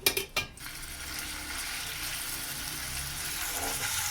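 Chicken drops into hot oil in a frying pan with a quick clatter, followed by a steady, even hiss of frying that carries on throughout.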